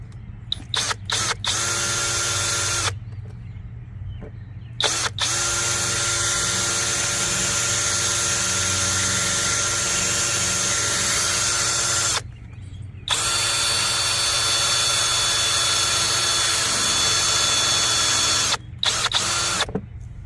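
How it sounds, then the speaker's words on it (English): A power drill bores straight through the screw behind the front bumper emblem of a Maserati, whining loud and close in long sustained runs broken by a few short pauses. "I'm gonna drill straight through the middle of it."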